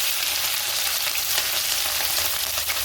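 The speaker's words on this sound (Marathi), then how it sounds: "आता आपण आधी मिरची टाकू।" Green chillies hit hot oil already crackling with mustard seeds and cumin, giving a loud, continuous close-up sizzle for a few seconds with no voices.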